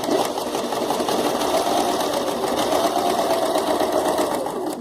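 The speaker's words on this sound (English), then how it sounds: "over all this sewing machine noise" A sewing machine runs steadily throughout, a dense continuous mechanical whir with no pauses, fairly loud and close.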